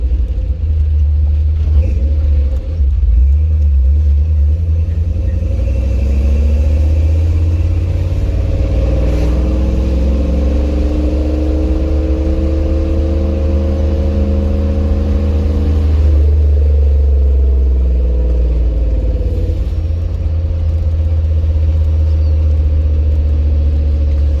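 A Toyota 1UZ V8 engine in a second-generation 4Runner with a catalytic converter and Flowmaster Super 40 exhaust idles loudly and steadily, with a throaty exhaust tone that swells slightly in the middle before settling back.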